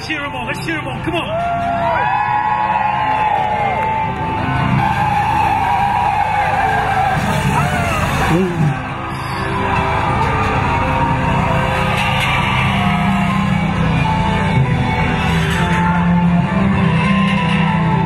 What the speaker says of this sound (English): Cheer them on, let's cheer them on, come on!